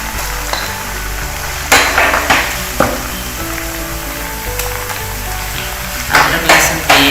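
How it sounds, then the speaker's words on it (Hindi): Ginger garlic paste and onions fry in hot ghee with a loud, steady close sizzle, broken by a few sharp bursts of crackling as the pan is stirred. "अदरक लहसुन पेस्ट ऐड कर दिए और इसको भूने।"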